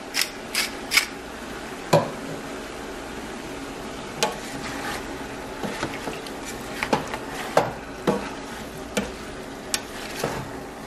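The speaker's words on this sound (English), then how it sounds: "now that the meat and the bacon is cooking" Meat and bacon cook together in a pan for carnes en su jugo, a soft continuous sizzle broken by frequent sharp scrapes and clicks of a utensil stirring and tapping against the pan.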